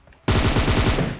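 Loud, rapid automatic gunfire from the PUBG Mobile video game bursts in abruptly after a short quiet moment and rattles on in a fast, even rhythm, close and dominant with no talk.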